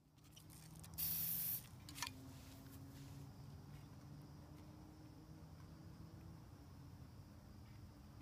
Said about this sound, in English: spraying some paint and laying the frame down face down